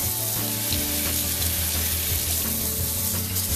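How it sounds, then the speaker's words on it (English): Cold water rinses a tie-dyed tank top, a continuous dense splashing and hissing rush of running water, steady and close throughout without speech. "So you're just going to want to rinse it out with cold water."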